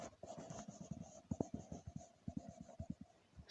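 A pen writes by hand on paper while a maths problem on the area of a square is worked out, giving quiet close scratches and taps in an irregular rhythm with no talking.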